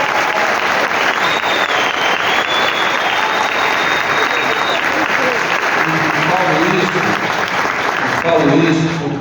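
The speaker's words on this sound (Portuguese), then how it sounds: "eu queria pedir uma salva de palmas forte para o professor." Strong, sustained audience applause at a university rector's inauguration ceremony at UFCG in Brazil, a dense clapping wash with a whistle on top, then speech emerging as it ends.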